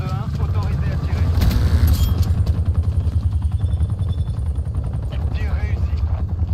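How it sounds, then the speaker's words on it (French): Attack helicopter in the video game Call of Duty Cold War: a steady low rotor thrum, with sharp bursts like gunfire near the start, under voices talking. "Envoyez-nous un hélicoptère d'attaque."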